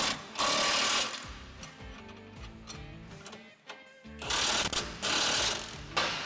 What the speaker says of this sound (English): you'll be needing the impact and the wrench once again to tighten up those 4 bolts